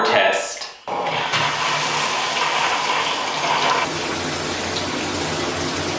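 Cheap grocery-store phones get a water test as liquid gushes and splashes, starting with a short rush, then settling into a steady pouring, rushing flow that runs to the end.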